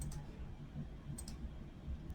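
A computer mouse clicked during a Qoo10 Japan product-listing setup, a few faint, sharp clicks in small clusters over low, steady background hum, with no talk.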